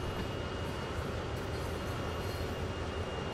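Steady, close interior rumble of a train in motion in Train Sim World, heard from the rear of the train, with continuous low-frequency roar and hiss that stay level throughout, no voices.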